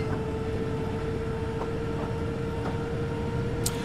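Metro-Cammell C69 stock London Underground train in Train Simulator 2020, a steady rumbling hum with a constant tonal whine and faint rhythmic clicks of wheels over rail joints, ending with a brief high hiss.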